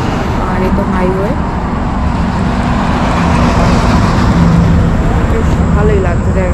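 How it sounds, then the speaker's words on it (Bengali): Dense, loud highway traffic rumbles on at dawn in Purulia, vehicles roaring past in a continuous wash, with faint voices under the road noise. "আর এই তো হাইওয়ে"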